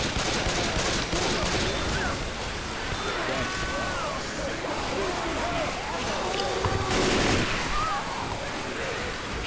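Scattered gunfire at a Hunter in Left 4 Dead 2 on the Coldstream map, a dense crackle of shots mixed with background game noise and overlapping talk, with a louder burst near the end.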